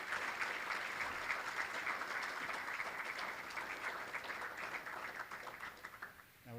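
Steady audience applause at an awards dinner, a roomful of hands clapping at moderate, fairly distant level, holding evenly before thinning out near the end.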